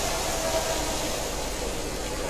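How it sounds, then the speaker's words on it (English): A dense, steady roar of tornado wind in a video game fills the clip, loud and unbroken like a continuous storm. "That is a scary tornado."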